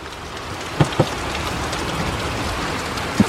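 Heavy rain pours down in a steady, dense hiss during a thunderstorm, with a few sharp drips or knocks standing out and no voices.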